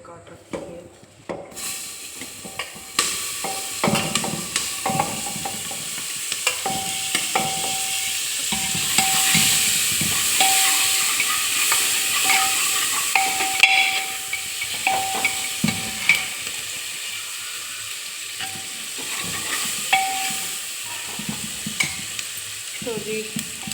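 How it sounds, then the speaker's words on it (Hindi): Chopped onions hit a hot pan and fry with a steady sizzle for over twenty seconds, with scraping stirs and occasional clinks throughout and a faint tone now and then. "अब मैं इसमें डालूँगी प्याज वगैरह जो मैंने काट रखी है"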